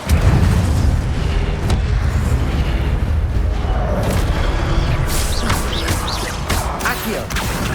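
Incendio fire spell cast in Hogwarts Legacy, a loud continuous whooshing roar of flame with rumbling booms and crackle that holds steady throughout.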